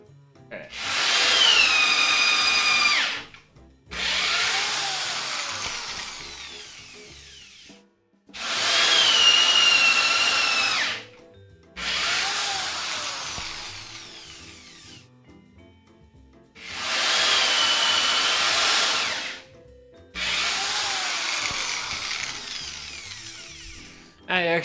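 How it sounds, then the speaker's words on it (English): A power drill bores into wood in a home woodworking shop, three long bursts each followed by a shorter one, the motor whining up and spinning down between runs, close and loud. "Spinning the drill bit the right direction helps a lot"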